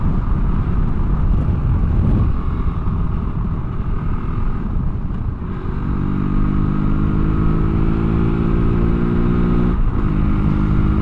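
A Kove 450 Rally single-cylinder adventure motorcycle drones steadily at highway speed around 70 mph and 6,000 rpm, a loud continuous engine hum with rushing wind noise, holding a steady pitch with a slight shift midway.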